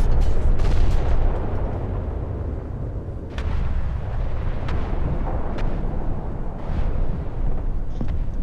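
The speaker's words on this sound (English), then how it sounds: "And now firing in a city, it should sound like this." Tank cannon firing in a city in War Thunder, heavy booming blasts and sharp reports echoing over a constant low rumble of battle, loud and sustained throughout.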